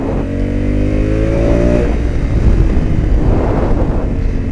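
A 2021 Honda Africa Twin motorcycle accelerates hard on a race track, its engine note climbing steadily in pitch before giving way to a loud rushing roar of wind and engine at speed, with no talking.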